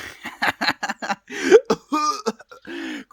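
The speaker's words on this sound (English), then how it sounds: "Coughing your lungs out" A person coughing hard in a rapid series of harsh bursts with brief pauses, close and loud, ending in throat clearing.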